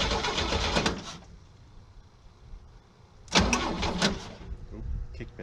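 An old Chevy engine cranks and tries to fire after sitting eight years, a loud churning burst at the start and another midway, with quieter stretches between.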